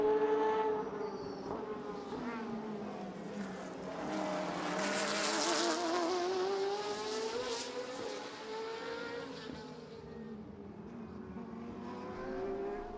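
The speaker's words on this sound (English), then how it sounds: "the Porsche of the 26 Tai-San Ken Ennis just makes way for the Italian team, AF Corsa SRL, to go past" Race cars, including a Porsche and an AF Corsa entry, pass on the Inje circuit during a 2013 Asian Le Mans Series round, their engine notes rising and falling in long sweeping pitches, heard fairly faint and from a distance.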